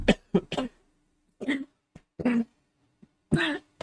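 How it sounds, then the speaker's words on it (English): A person coughs repeatedly at close range in several harsh bursts, some quick pairs and some single hacks, separated by short silent gaps and with no talk. "Okay, I lived through the coughing."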